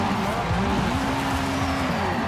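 A 2008 BMW M3 drifting: the engine revs up and down in a rough, rising-and-falling howl with a harsh, noisy tyre edge, loud and close for a couple of seconds.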